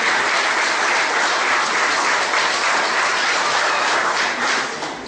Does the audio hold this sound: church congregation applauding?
yes